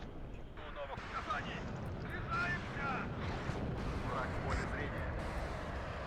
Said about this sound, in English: Artillery can support somewhere, like just obliterate that specific position.